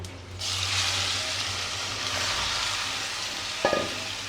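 Meat dropped into hot oil with bay leaf, dried chilli, cumin and onion paste bursts into a loud, steady sizzle that holds for several seconds, with a brief stirring clatter near the end.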